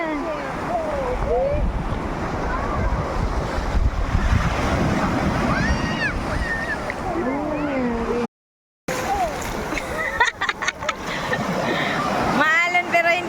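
Ocean surf rolls onto Patar White Beach in Bolinao, Pangasinan, Philippines, a moderate wash of waves with wind buffeting the microphone, heard under steady conversation throughout with a brief dropout midway.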